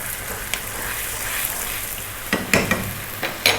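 Lamb kidney and garlic frying in a pan over high heat, a steady close sizzle with a few sharp clatters of stirring near the end.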